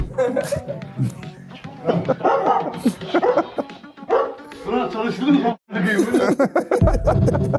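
A Kangal dog barks in short bursts, partly masked by several people talking and laughing over it.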